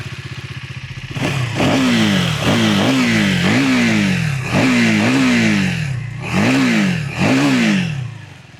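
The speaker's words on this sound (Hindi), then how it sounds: "उसी के साथ चलिए आपको क्विकली सुना देता हूँ इसकी एग्जॉस्ट नोट को।" A 2025 KTM 390 Enduro R single-cylinder motorcycle idles, then its exhaust is revved in a series of about six loud, sharp blips that rise and fall back to idle, heard up close with no talking.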